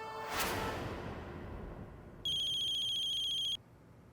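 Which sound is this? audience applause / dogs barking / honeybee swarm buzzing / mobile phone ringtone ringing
mobile phone ringtone ringing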